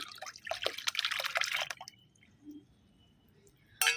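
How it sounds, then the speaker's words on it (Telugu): Water with plant waste splashes and pours into a container for a garden pest spray, with close trickling and dripping for about two seconds. Quiet follows, then a brief louder splash at the end. "ఇలా మనం తీసేసుకున్న వేస్టేజ్ మొత్తాన్ని కూడా ఇందులో యాడ్ చేసేస్తాము అండ్ వాటర్తో సహా యాడ్ చేయాలి"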